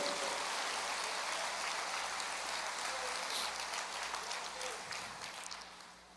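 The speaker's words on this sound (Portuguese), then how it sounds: "Aplauda ao Senhor." Congregation applauding during a Portuguese-language evangelical church service, a dense, steady wash of many hands clapping at moderate distance that tapers off toward the end, with faint voices underneath.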